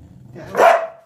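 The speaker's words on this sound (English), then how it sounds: "No, no bark." A single close, loud bark from an Irish terrier indoors, a short low growly lead-in rising into one sharp bow-wow, heard alone with no talking over it.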